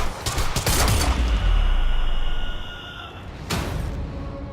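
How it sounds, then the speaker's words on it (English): Heavy gunfire in the video game Quantum Break, a loud sustained burst of shots for about two seconds that fades, then a second sharp blast followed by lingering noise. "Stop fucking shooting at us!"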